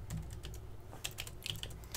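Rapid keystrokes on a computer keyboard while a Cisco router is configured for BGP, an irregular stream of light clicks with a few sharper taps, steady and close over a faint background hum.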